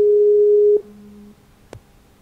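A phone call drops during a callback: a loud, steady tone holds, then a brief lower tone follows and a short click ends it, leaving quiet behind.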